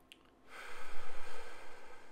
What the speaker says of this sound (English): And we inhale.